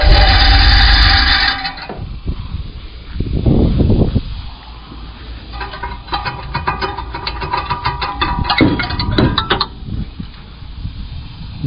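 The V8 engine of a 1972 Chevrolet Impala rumbles loudly up close, with a rough, uneven idle and irregular surges and mechanical rattling.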